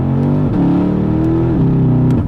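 Porsche Panamera GTS Sport Turismo with a PDK shifting tune, its engine revving hard and bouncing off the rev limiter in a loud, sustained close-up roar with repeated brief cuts in pitch.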